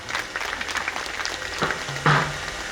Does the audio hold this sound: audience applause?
yes